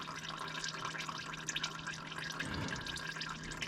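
Thin engine oil drains and drips steadily from a Corsa C, a continuous watery trickle close by with no talking.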